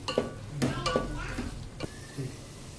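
A spoon stirs garam masala into an egg biryani mixture in a cooking pot, giving a few scraping clinks and soft shuffling strokes at close range, with light background noise.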